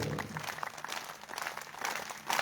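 Devotees clap along during the aarti of Maa Narmada at Ranchhod temple in Rampura, Gujarat: soft, steady group hand claps, somewhat distant and blended together.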